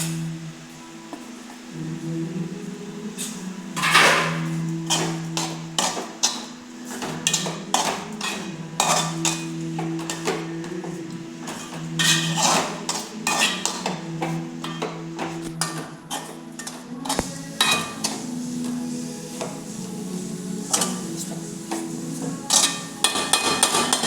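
A spoon clanks and scrapes against a metal pot while drumstick leaf curry with coconut is stirred, giving repeated sharp knocks in uneven bursts, close and fairly loud.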